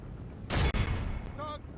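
Gunners loose a gunfire volley during a strategy video game battle against Spain: one loud, broad burst of shots near the start that rings out briefly, followed by a short shouted voice.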